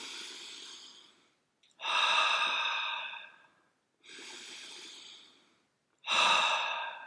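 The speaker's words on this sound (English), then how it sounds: "So, just do it. Just breathe." Slow meditative breathing sounds close up, four long airy breaths alternating softer and stronger, each drawn out over a second or two with brief silent pauses between.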